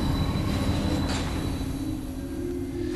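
A tram in the Metroid Prime 3: Corruption video game rides along its line through a pirate facility, giving a steady rolling rumble with metallic squealing tones and a faint mechanical whine, continuous throughout.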